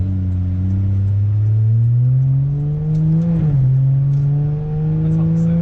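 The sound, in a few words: straight pipe car exhaust revving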